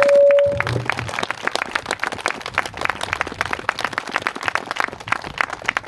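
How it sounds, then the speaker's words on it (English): Crowd applause at an outdoor gun rights rally in Olympia, Washington, a steady wash of scattered clapping that keeps going after a brief low thump at the start. "I'd love for us to give us just another round of applause"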